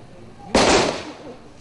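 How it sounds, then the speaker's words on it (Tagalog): A single sharp gun salute volley cracks out at a congressman's funeral in a Manila cemetery, a loud burst that decays over about half a second against low outdoor background noise. "Pagkatapos ng final blessing, ginawaran ng gun salute ang kongresista."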